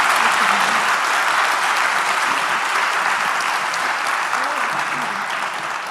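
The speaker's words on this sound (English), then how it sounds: "A last round of applause to accompany them off stage." Audience at a research conference applauds as speakers leave the stage, a dense, steady wash of clapping that fills the room and holds evenly, easing slightly near the end.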